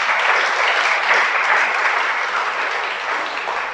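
A church congregation claps in a dense, loud burst of applause from many hands, holding steady throughout with no voices standing out.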